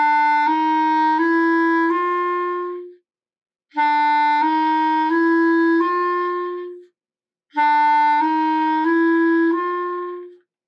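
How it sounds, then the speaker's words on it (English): A clarinet plays a short chromatic run from E up to G three times in a row. Each pass moves through four smooth, sustained ascending notes, clear and close, with brief pauses between passes. "If I start on the E below and go up to a G, it looks and sounds like this."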